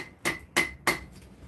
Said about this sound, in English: I want to try and pull this out a bit, but it is a little stiff, so we might need to just keep hammering it.